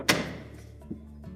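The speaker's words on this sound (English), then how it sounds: "And then we can close the doors up." A refrigerator door shuts with one sharp close thunk near the start, followed by a couple of softer knocks as the doors settle, close by in a quiet room.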